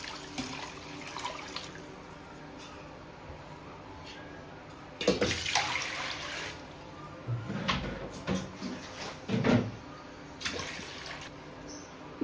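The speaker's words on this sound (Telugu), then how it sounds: "సగం గిన్నె నీళ్ళు వేస్తున్నా." Water poured into a pot of rice for bagara rice, heard as a few bursts of splashing and gushing between quieter stretches, close by and fairly soft.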